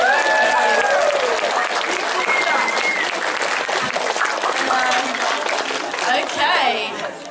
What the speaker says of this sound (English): so shall we have a round of applause for Emma?